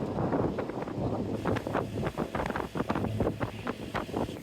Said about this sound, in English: We've got 2-3 foot seas, 15 knots of wind.